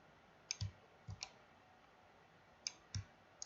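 Computer mouse clicked while modeling a 3D-printable double-headed deer in CAD software: sharp, close, isolated clicks arriving in spaced pairs, crisp and alone in a quiet room.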